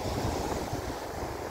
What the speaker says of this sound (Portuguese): é o nosso Oceano Atlântico